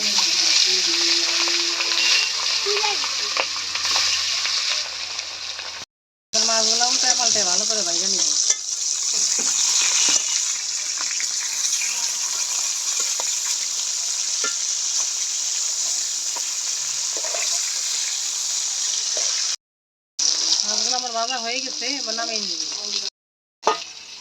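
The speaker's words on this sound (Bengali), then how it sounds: "তেলটা গরম হয়ে গেছে এবার মাছগুলো দিয়ে দিব" Fish fries in hot oil in a wok with a steady, loud sizzle and crackle that runs almost without pause, while a person talks over it.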